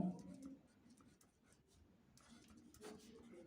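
A pen scratches on paper in a classroom maths lesson, with soft intermittent strokes and rubbing close by at a low level, and some faint background noise throughout.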